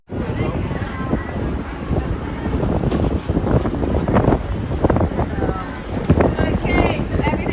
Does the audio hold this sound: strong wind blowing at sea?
yes